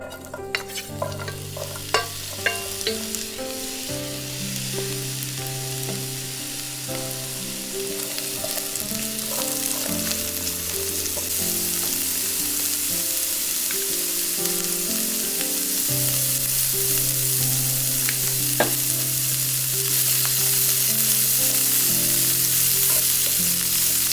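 Coconut oil, added as a solid lump like butter, melts and sizzles in a frying pan, a steady close frying hiss running throughout under a soft musical backing.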